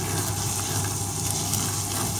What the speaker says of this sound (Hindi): अभी मैं ऐसे 5 मिनट भूनूँगी